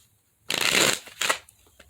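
A deck of tarot cards being shuffled in two quick riffling bursts, the first longer and louder, the second short, with quiet gaps before and after and no talking.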